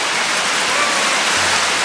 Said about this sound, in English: it has started raining. So I guess we have to wait for the rain to pass